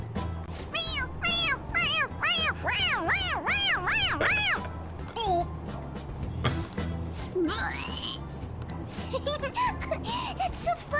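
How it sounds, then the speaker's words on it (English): A toy cat in the Persona 5 Royal video game meowing repeatedly when its head is pressed, a rapid series of bright, rising-falling meows, followed by game sounds and a few more scattered mews. "It meows when you press on its head."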